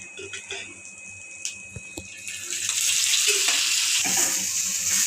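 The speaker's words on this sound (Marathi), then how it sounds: "कांदा भाजून पण असं झाला पाहिजे आणि तेलात तळून पण झाला पाहिजे" Onions fry in oil in a pan, with scattered clicks and stirring scrapes at first, then a louder, steady sizzle that swells partway through and holds close up.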